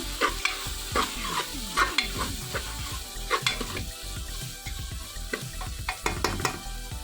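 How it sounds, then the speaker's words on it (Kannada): Tomatoes fry in a pan for beetroot biryani, with a steady close sizzle under repeated rhythmic scrapes and knocks of a spoon stirring against the pan, several strokes a second, with no talking. "ಟೊಮೊಟೊನ ಹಾಕಿ ಚೆನ್ನಾಗಿ ಫ್ರೈ ಮಾಡಬೇಕು"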